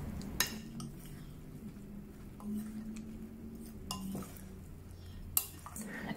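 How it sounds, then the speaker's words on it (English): Beancurd skin sheets coated in an egg mixture in a bowl, quiet wet dabbing and soft stirring with occasional sharp clinks of utensils against the dish, close and gentle. "place the beancurd skin into the egg mixture to coat each of them evenly"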